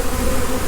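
Honey bees hum in a dense, continuous drone during a warm-day hive inspection, heard up close with no gaps or pauses.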